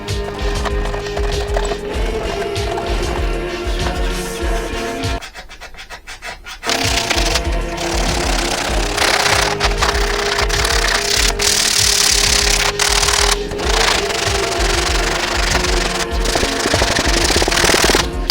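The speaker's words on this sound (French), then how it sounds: "on commence par le ponçage" A wooden fingerboard half-pipe ramp being sanded, a loud continuous rough abrasive grinding that briefly drops out partway through and then resumes strongly.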